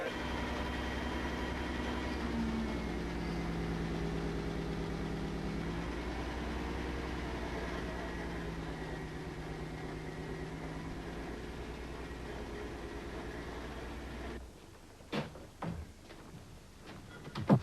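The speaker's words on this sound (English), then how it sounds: "It's a 6-cylinder Gardner diesel, sir." A six-cylinder Gardner diesel engine idles with a steady low drone and faint tonal hum for about fourteen seconds, then cuts off, leaving a few scattered knocks and clicks; no one speaks.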